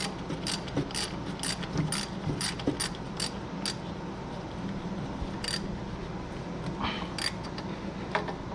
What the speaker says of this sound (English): And then you can use a ratchet wrench on this one.